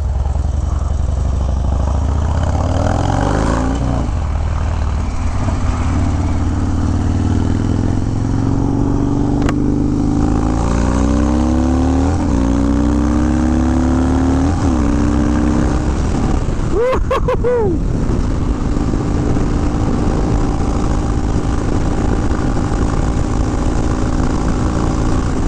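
Harley-Davidson motorcycle engine pulling and accelerating on the road, a steady loud rumble with rising and falling revs and constant wind noise, with a brief sharp burst midway.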